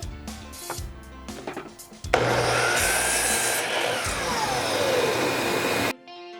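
A saw blade cuts through short pieces of wood for a DIY doormat, with a loud steady rasping whine lasting about four seconds after some quieter handling noises, then ending abruptly.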